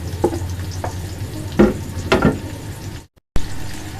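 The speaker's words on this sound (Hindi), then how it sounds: "अब मैं इसमें प्याज शामिल करूंगी। ये प्याज है, एक दरमियानी प्याज है जिसे मैंने चॉप कर ली है।" Chopped medium onion and a small chopped tomato sizzle in a hot pan, with several scraping stirs and a brief silent gap near the end. No voices.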